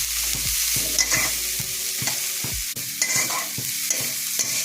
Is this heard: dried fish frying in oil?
yes